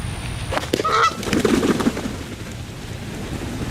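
Goose honking outdoors on a golf course, a couple of short nasal honks near the start over steady rain-like background noise, with lower rustling bursts following.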